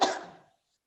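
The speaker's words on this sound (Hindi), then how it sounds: "अब खांसो मत, खांसने लगी" A woman coughs once, a single sharp, close burst that fades quickly into silence.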